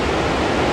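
Rushing water of the Lasphur river in the Chitral valley of the Hindu Kush, fed by melting glacier, a steady broadband roar filling the brief moment with no voices.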